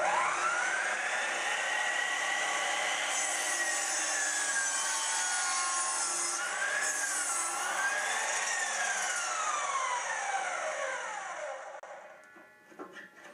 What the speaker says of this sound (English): this is the same 7 3/4 inch cut across the board at a 45-degree angle